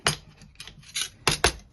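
A few sharp crunching cracks and pops up close, five or six irregular bursts as turkey berries are pressed and crushed under a flat plate.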